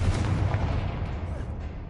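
A Confringo fire spell in Hogwarts Legacy lands as a loud, rumbling blast that rolls on for about two seconds, dense and steady with no voices over it.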